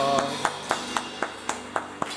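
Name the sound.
congregation clapping in church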